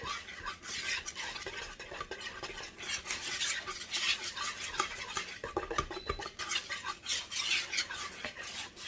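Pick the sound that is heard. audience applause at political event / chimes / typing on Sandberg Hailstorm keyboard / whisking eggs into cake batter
whisking eggs into cake batter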